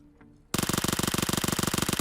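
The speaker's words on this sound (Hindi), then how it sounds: "अब ये पिस्टल की आवाज़ थी" Rapid pistol fire in the mobile battle royale game PUBG Mobile, a burst of loud sharp cracks in quick even rhythm breaking in after a quiet moment.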